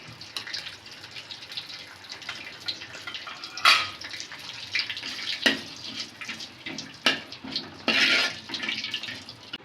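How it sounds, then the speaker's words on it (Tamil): Cashews roast in hot ghee with an irregular sizzle and crackle, bursts of spattering rising and falling up close. "முந்திரி பருப்பு போட்டு நல்லா ரோஸ்ட் பண்ணிக்கோங்க"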